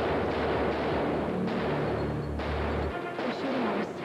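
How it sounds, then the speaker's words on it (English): Gunfire in a TV soap opera scene comes as a dense series of heavy, muffled booms and rumbling blasts, close and loud, running almost continuously through the clip. "They're shooting at us."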